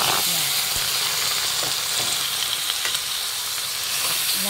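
Meat sizzles and fries in a hot pan, making a loud, dense, continuous crackling hiss that fills the whole stretch, close up, with a few faint clinks and no talk.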